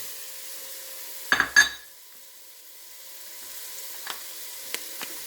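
Onions and celery cook in a pot for gumbo over a low fire, giving a soft, steady sizzle broken by a couple of sharp scraping knocks and light taps as the mix is stirred.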